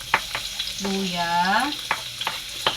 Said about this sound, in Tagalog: So magisa na tayo ng ating bawang,